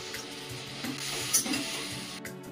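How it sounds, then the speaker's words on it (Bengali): Jackfruit pieces frying at medium heat in oil in a pan, producing a steady, soft hiss that runs through the short stretch with a faint clink of a utensil partway in. "মিডিয়াম ভাবে ফ্রাই করে নেব।"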